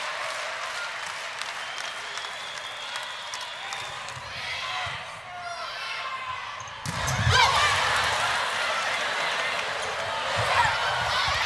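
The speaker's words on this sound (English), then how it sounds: "The Badger crowd will let you know how this goes." Wisconsin Badgers home crowd at a Madison women's college volleyball match against Nebraska, a steady arena roar of cheering and applause with squeaky court sounds, swelling louder partway through and holding high, with brief voices mixed in.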